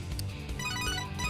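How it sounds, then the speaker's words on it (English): A cell phone rings in the Devil Survivor 2 video game: a steady electronic ringtone with layered tonal bands builds over a game soundtrack and rings continuously for the whole moment. "is that your cell phone?"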